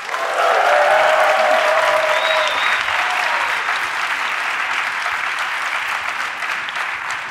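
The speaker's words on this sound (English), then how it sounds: "I want you to give them a very enthusiastic cheer." A large conference audience at the International Astronautical Congress 2022 bursts into loud, sustained cheering and applause, with whoops rising early and a dense wash of clapping that holds for several seconds before easing slightly.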